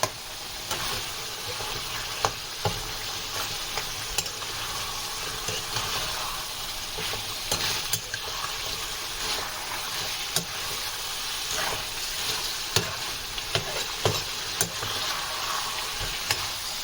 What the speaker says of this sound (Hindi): जिंजर गार्लिक पेस्ट डालने के बाद हम इसको मिक्स करेंगे